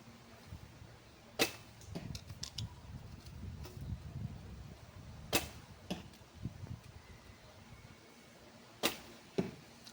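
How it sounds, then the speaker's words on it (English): Arrows loosed one after another at an archery target about 20 to 22 metres away in the rain. A few sharp, separate snaps stand out over a steady wash of rainfall, with no talking. "So I'm just really quickly trying to shoot all these arrows."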